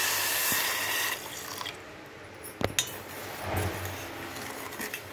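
Half a cup of water poured for making sugar syrup, a brief rushing splash followed by a couple of sharp clinks of utensils against a vessel, close and clear with no talking.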